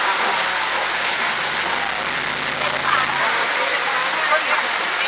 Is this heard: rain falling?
yes